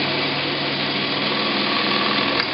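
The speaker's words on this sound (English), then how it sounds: "When I feel the tip of the drill touch the part, I'll look at the depth stop and then I'll drill 1/16." A drill bores steadily into a cable drum part, taking it down to a depth stop. The high, even whine runs continuously and loud throughout, with no speech.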